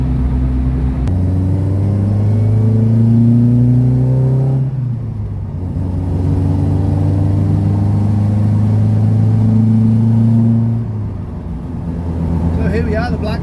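Ford Escort MK1 engine pulls through the gears on a test drive on a mountain pass, its steady mid-pitched hum rising in revs, easing off around a gear change midway and climbing again, loud and close throughout.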